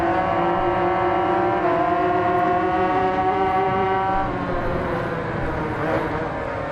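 A motorcycle racing engine in the Ride 5 video game screams at high revs on the Mugello circuit, with a rising whine as the throttle opens and climbs through gears, loud and steady, ending in a dip as the engine comes off the throttle.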